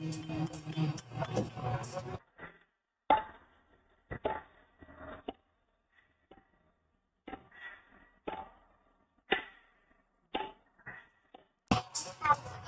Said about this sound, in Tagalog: pakinggan natin yung tunog ng connecting rod.